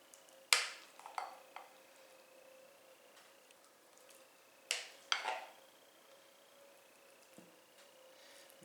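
Cottage cheese mixture spooned onto a tortilla casserole, with a few soft wet squishes and scrapes of the spoon, close and quiet, with pauses between scoops.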